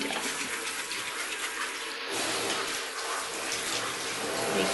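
Water running steadily from a tap while a cat is bathed, a continuous close hiss and splash with faint soft voices underneath.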